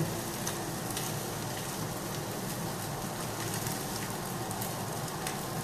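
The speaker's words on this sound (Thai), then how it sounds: "คนให้มันเข้ากัน อย่าให้มันออกนอกกระทะนะ" Steady, close sizzling of sausage fried rice being stir-fried in a hot pan, continuous and fairly quiet, with faint scraping of stirring underneath.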